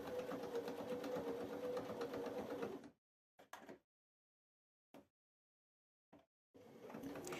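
A domestic sewing machine runs a continuous, even stitching buzz while joining patchwork blocks with a broken zigzag stitch, stops abruptly, gives a few isolated clicks during the pause, then starts stitching again at the end.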